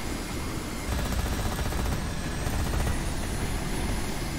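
Manta aircraft flying in the game Carrier Command 2, a steady loud whirring engine roar with a fast rhythmic rotor-like pulsing, continuous and close throughout.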